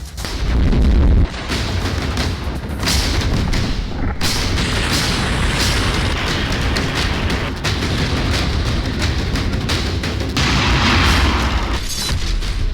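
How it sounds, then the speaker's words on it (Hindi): Missile strikes and bombs exploding during the Russia-Ukraine war, a loud continuous roar of blasts and rumbling booms, dense and overlapping for the whole stretch with no clear pauses. "गिरी मिसाइल, बरसे बम।"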